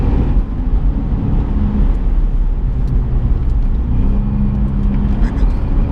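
Cadillac CTS-V V2 at full throttle: a steady, loud engine roar holds across the whole stretch with a slight rising tone near the end, heard from inside the car.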